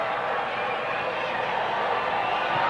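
A wrestling arena crowd on their feet cheering for Strongbow, a steady dense roar of many voices filling the hall without letup, loud and close throughout.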